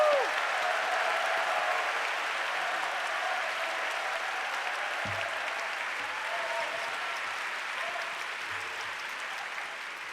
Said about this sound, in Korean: 우리 나오실 때 뜨거운 환영과 힘찬 격려의 박수를 부탁드리겠습니다.